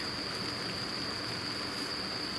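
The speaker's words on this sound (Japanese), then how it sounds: "いや、今日雨でどうにもならないっすわ" Heavy rain pours steadily at a solo riverside campsite during a thunderstorm, a dense continuous hiss with a faint high tone running through it, with no voices.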